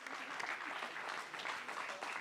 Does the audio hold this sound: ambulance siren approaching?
no